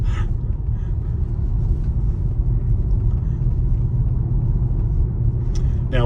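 A Tesla car rolls down a twisty mountain road, a steady low road rumble and tyre noise heard from inside the cabin, continuous and fairly loud.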